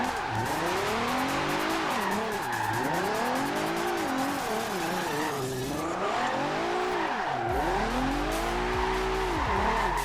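Nissan GT-R drift build held in 4th gear in Forza Horizon 2, engine note sweeping up and down continuously with loud tire squeal and skidding throughout, close and dominant with no talk.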